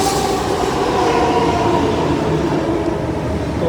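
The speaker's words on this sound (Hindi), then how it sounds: "अब मैं आ गया हूँ प्लेटफॉर्म नंबर 1 पे और मेट्रो आने वाली है बस।" Loud, steady rumble of a metro train arriving at the platform, a dense low roar with faint rhythmic rail clatter, continuous and close, with no voices.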